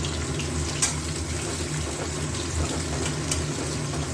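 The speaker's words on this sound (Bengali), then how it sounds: "একটা পেঁয়াজ কেটে রেখেছি, পেঁয়াজগুলো একটু ভাজা ভাজা হোক।" Chopped onions fry in a pan, a close, steady sizzle with a low hiss and occasional faint clinks of stirring and no talk.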